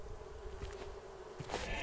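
Bees buzzing in the survival video game Raft, a faint steady insect drone running under the whole short stretch with a slightly louder burst near the end.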